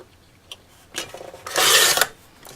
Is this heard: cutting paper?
yes